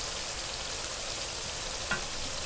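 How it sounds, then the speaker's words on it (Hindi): Green chillies fry over a high flame with a dense, continuous sizzling hiss, loud and close, broken only by a faint brief tap. "मैं ये सारा इस वक्त तेज आंच पे ही बना रही हूँ, इसका चूल्हा मैंने आहिस्ता नहीं किया।"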